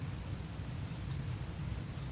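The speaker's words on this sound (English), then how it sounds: "I'm going to use my big scissors and trim out this seam allowance" Large sewing scissors snipping through the seam allowance of a liquid lamé shirt, a few quick close metallic cuts over a steady low room hum.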